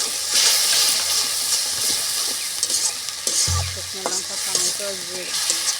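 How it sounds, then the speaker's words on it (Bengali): Spice paste of ground dried red chilli and cumin frying for egg biryani, a steady close sizzle with stirring scrapes throughout, plus a low thud and a few clinks toward the end. "আর কিছু সময় ধরে ভেজে নেব"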